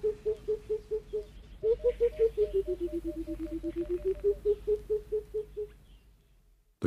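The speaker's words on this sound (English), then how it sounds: "It would be the call of the cuckoo." Burchell's coucal calling, a mellow bubbling series of hoots that dips in pitch and rises again, a steady run of about twenty notes, moderately near over quiet background.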